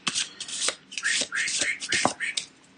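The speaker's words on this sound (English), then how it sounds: "We're going to shuffle the henchman deck" A deck of henchman cards from the Aventuria board game gets shuffled by hand in several quick, close riffling bursts separated by short pauses, quiet and crisp.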